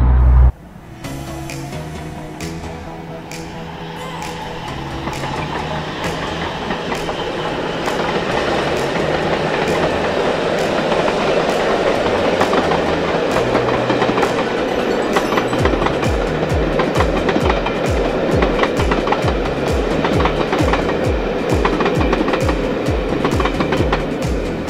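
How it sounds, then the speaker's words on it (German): A train passes on a railway line in Scotland, rising from a distant rumble into a loud, steady roar with rhythmic clickety-clack of wheels over rail joints in the second half. "jetzt gucken wir mal, ob wir trotzdem ein paar schöne Aufnahmen von dem Zug hinkriegen"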